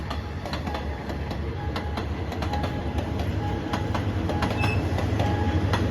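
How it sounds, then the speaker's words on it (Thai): Rapid train no. 139 passing a railway crossing on Si Ayutthaya Road in the evening: a loud, steady rumble with rhythmic clickety-clack wheel beats and faint squeals, heard close and alone. "ขบวนรถเร็วที่ 139 นะครับผม"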